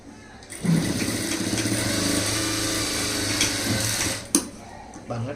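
Sewing machine running steadily while stitching the lining of a stone-work blouse, a continuous mechanical hum close by, with a voice talking over it and a short sharp knock near the end.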